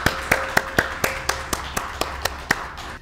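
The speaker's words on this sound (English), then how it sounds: "please welcome Professor Cheeyun Kwon with a warm round of applause" Sparse, evenly spaced claps from a small audience welcoming a lecturer on Goryeo art, about a dozen distinct sharp hand claps in a steady rhythm, close and clear, with no voices.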